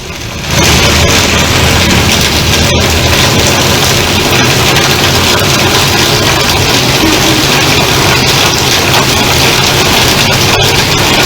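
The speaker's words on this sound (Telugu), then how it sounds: "హైదరాబాద్ లో పలు చోట్ల వర్షం కురుస్తోంది" Dense, loud, continuous hiss of heavy rain pouring down in Hyderabad, steady throughout with occasional faint thuds.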